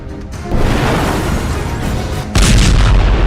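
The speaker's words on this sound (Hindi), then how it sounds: "धमाके का पांचवां वीडियो" Loud rumbling blast noise, with a sharp second explosion cutting in near the end and continuing as a powerful, low roar.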